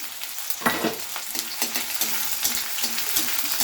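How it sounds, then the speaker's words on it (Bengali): Chopped onion and garlic fry in hot oil with a bright, close crackle and sizzle, while a spatula makes repeated scraping stirring strokes at an uneven pace. "রসুনটা দিয়ে দিলাম তেলের ওপরে আর এটা হলো পেঁয়াজ কুচি পেঁয়াজটাও দিয়ে দিচ্ছি"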